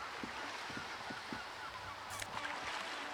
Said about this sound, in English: Hear the distant squall of seagulls.